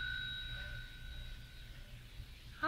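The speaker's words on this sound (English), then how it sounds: "Try the bell." A desk bell rung once at an empty front desk of a quiet out-of-the-way place, a bright ding that hangs and slowly rings out over a low background hum.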